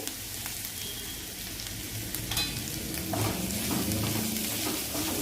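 Potato filling for Mumbai vada pav frying in a pan, a constant crackling sizzle with scraping stirs and a few clinks, growing slightly louder toward the end, no speech.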